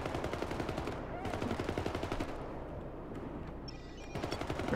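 Rapid automatic gunfire from the video game Syndicate, dense bursts of shots rattling almost continuously with brief lulls, loud and close throughout.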